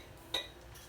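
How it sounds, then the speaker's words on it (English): A single light metallic clink as a metal muffin pan is handled in a home kitchen, brief and fairly close, with a faint ringing tail over quiet room tone. "as soon as I find my muffin pan"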